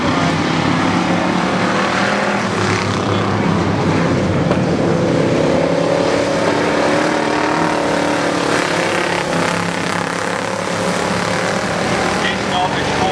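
Pure stock race cars roar around Barona Speedway at the start of a heat race, a dense, constant wash of engine noise heard from the track side.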